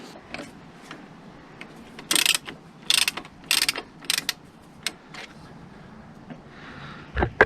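Ratchet loosening bolts on the skid plate of a KTM 790 Adventure, heard as several loud bursts of quick mechanical clicking separated by quieter pauses, close by with no talk.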